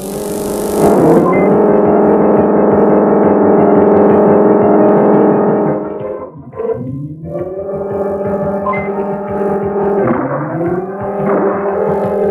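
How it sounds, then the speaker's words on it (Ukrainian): Car engine revving hard and climbing through the gears, loud and close, with sustained rising whines broken by brief drops at each shift, likely from a video game. "повертаєш ключ, вмикаєш першу швидкість, другу, третю, четверту"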